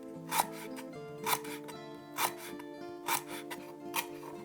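Lemongrass stalks sliced thinly with a knife: five crisp, evenly spaced cutting strokes roughly a second apart, heard close over steady background music.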